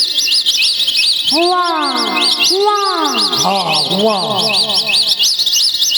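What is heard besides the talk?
bird chirping in a tree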